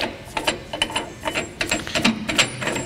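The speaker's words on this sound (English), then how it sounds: "Okay, now we're going to take the disc off." A brake rotor being taken off a bench brake lathe in a workshop, giving a quick series of close metallic clicks, ratcheting and clanks in an irregular rhythm at moderate volume, with no one talking.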